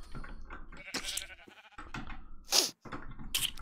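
Sheep bleating in the modded Minecraft video game, a few short separate bleats with gaps between them, heard clearly with no talk over them.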